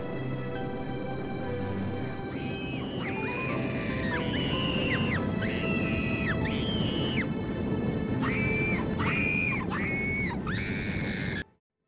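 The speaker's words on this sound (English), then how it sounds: "The worst thing about Coasterworks were the sound effect screams when you tested the roller coasters." Looping sound-effect screams from roller coaster testing in the Coasterworks theme park game, repeated high crowd shrieks in bursts over a busy rumbling ride background, ending abruptly.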